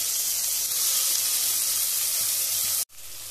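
Onions, fresh coriander and tomato sizzling in a pan for bhindi curry, a steady bright hiss close by with faint clinks, cut short by a brief silence near the end.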